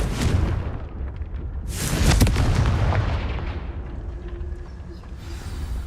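A Confringo fire spell in Hogwarts Legacy bursts into one loud, deep explosion midway, its rumble trailing off slowly over steady game ambience.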